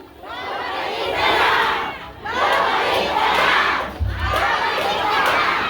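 A large crowd at a public gathering shouts for someone to come back, in three loud swelling waves of massed voices with brief dips between them.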